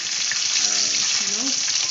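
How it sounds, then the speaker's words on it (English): Paneer sizzles steadily in a hot pan, a constant bright hiss, with a faint voice briefly audible underneath. "So we'll cook the paneer till it's a little golden brown."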